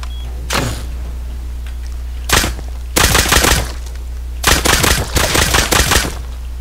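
Repeated bursts of video game gunfire, a single shot followed by long rattling volleys of rapid fire, loud and close with a steady low hum underneath and no talking.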